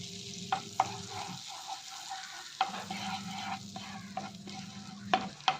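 Crushed red chilli powder is stirred into melted fat in a pan, giving a close crackling sizzle with sharp spoon scrapes and taps against the metal at irregular intervals.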